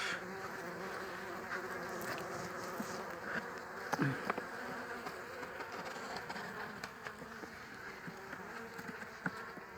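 Honeybees at a hive hum with a steady, faint, continuous buzz, with a few individual bees droning closer past the ear now and then.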